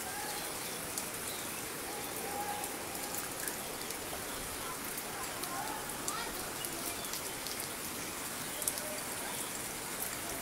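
Heavy rain pours steadily in the hills of Bandarban, a dense, even hiss of drops on surfaces filling the whole stretch without letting up.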